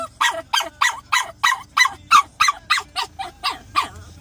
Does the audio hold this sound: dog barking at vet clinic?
yes